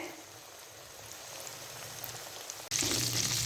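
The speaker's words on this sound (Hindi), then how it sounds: "अब फ्लेम को हम बिल्कुल लो फ्लेम पे इसको फ्राई करेंगे" Chicken wings frying in oil over a low flame, a soft even sizzle that jumps abruptly to a louder, brighter crackle near the end.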